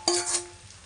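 Onions and green chillies for a mushroom capsicum curry hit a hot pan with one sharp burst of sizzling that fades quickly within a second.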